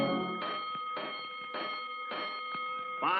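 Clanging alarm bells ring out in a quick, even series of about six strokes, clear and close with nothing else around them.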